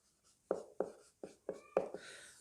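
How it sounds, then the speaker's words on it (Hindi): Marker or chalk strokes tap and scrape on a classroom board during a history lesson, about six short, distinct strokes in quick succession, close and fairly clear against near silence. "यहां लिखता हूं भारत।"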